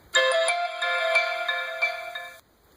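An email notification on a phone plays a bright, tonal chime melody for about two seconds, close and clear, then cuts off into silence. No one speaks.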